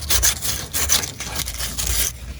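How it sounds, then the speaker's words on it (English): Rough sanding strokes scrape back and forth over the rusty metal body of a Mazda Miata in a steady rhythm, close and fairly loud. "I think I'm just about done sanding it"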